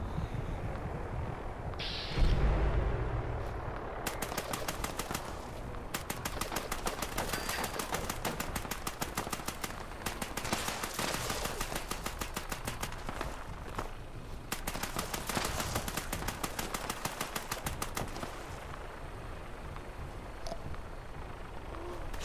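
Sustained gunfire in the online game Fallout 76 during a workshop fight with raiders, long bursts of rapid automatic shots firing almost without pause, loud and close, with a short lull near the start and no speech.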